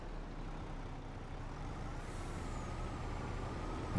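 A lorry drives in Farming Simulator 25, its engine producing a steady low drone with a soft hiss of air brakes rising midway, fairly quiet and unbroken throughout.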